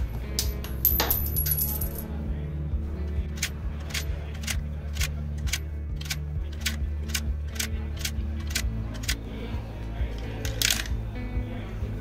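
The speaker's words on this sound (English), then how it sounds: "Here I have sample coins, I need to pass through this, and you can see this is the number of samples." Sample coins drop one after another through a coin acceptor machine for arcade games and vending machines, giving a fast run of clinks and then a steady series of sharp metallic clicks at even intervals over a low mechanical hum.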